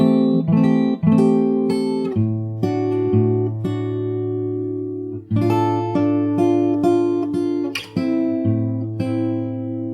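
A slight variation of The Last Of Us 2 theme on fingerstyle guitar, with altered opening chord figures and then ringing arpeggios over a low bass, played close and clean, voice-free.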